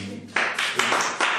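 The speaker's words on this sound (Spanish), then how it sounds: "Damos un aplauso al Eterno" A church congregation claps after a testimony during a service, with a few short bursts of clapping that start after a brief quiet moment, close and moderately loud.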